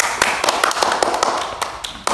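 A circus audience applauds a performer with a short burst of scattered, fairly close hand claps and taps, irregular rather than a full roar, lasting about two seconds.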